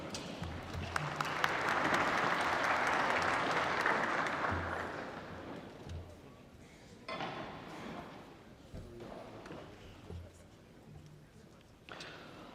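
Audience applause at the opening session of the XII Lisbon Forum, a dense burst of clapping that swells early, then fades into scattered claps and murmuring voices.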